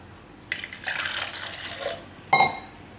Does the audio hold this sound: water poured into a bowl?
yes